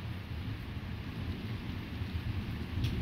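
Steady rain falls during a strong nighttime electrical thunderstorm in August, with a continuous low rumble of thunder beneath the hiss of the downpour, heard from a moderate distance.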